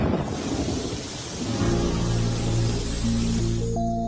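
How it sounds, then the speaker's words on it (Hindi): Heavy rain pours steadily through a movie scene, joined by deep rolling thunder. Low musical tones swell in under the storm partway through, and no one speaks. "बारिश जोरों से हो रही थी"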